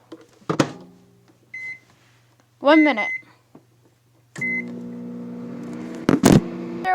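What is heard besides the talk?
microwave oven running while cooking noodles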